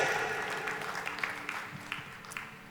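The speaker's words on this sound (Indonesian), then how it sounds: "Coba lihat tepuk tangannya kan kayak gini kan" An audience in a church claps hands, a soft, diffuse patter of many hands with scattered sharper claps that gradually thins out, heard from a distance with no voices.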